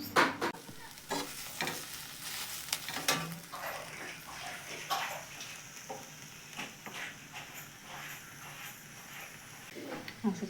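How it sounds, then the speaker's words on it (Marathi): Onions roast in a pan for a gravy paste, with a soft frying sizzle and scattered stirring scrapes, fairly faint and close, with a few sharper clatters along the way. "असं चाललं होतं माझा कांदा भाजायचा बघा"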